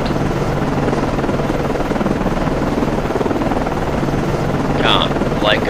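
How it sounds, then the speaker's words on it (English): A helicopter launches from the USS Vella Gulf, a cruiser in the Cold Waters naval game, its steady loud rotor drone continuing throughout, with brief radio-style voice callouts heard over it. "Con, flight code, aircraft ready to launch. Con, flight code, launching aircraft."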